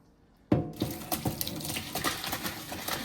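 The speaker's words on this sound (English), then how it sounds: "I'm draining the pasta." Pasta water drained into a kitchen sink: after a moment of quiet, a sudden gush of water pours and splashes continuously against the basin, close and steady.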